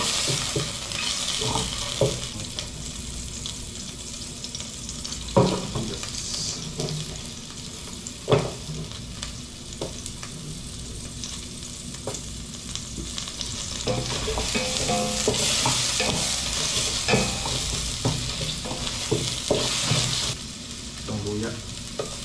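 Garlic and tilapia fry in a pan with a continuous crackling sizzle, broken by occasional scraping and clattering stirs and knocks from a utensil.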